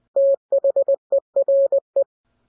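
Morse code is sent as a clean single-pitch tone in a rhythm of short dits and longer dahs, loud and close, with no voices.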